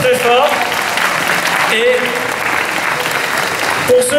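Loud, dense applause from a crowd at a Paris Manga convention panel with two Batman villain actors, steady throughout with voices and cheers mixed in.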